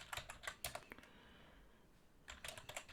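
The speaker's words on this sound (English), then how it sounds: "if I can type there" Keys clatter on a computer keyboard while a command is entered in a Linux terminal: quick, quiet bursts of clicks, a brief lull, then another run of keystrokes.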